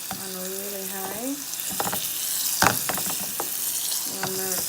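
Split pea dal sizzles and fries on high heat while being stirred in a pot, a steady close crackle with scraping stirs, and a voice speaks briefly over it.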